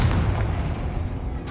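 A Confringo explosive spell blast in Hogwarts Legacy booms loudly with a low rumble and keeps rolling for the full moment without any voice.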